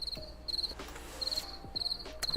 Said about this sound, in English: You have bullfrogs and crickets